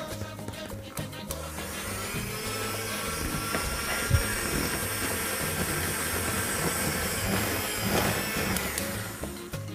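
An electric mixer beating dough whirs steadily with a droning motor hum and faint rattling, running continuously without pause.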